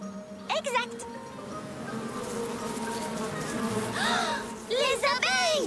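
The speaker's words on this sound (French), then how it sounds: "Les abeilles!" Cartoon bees buzz in swooping, wavering tones that come in two bursts, one early and one near the end, over a music bed and steady background.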